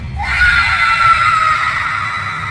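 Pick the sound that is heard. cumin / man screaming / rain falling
man screaming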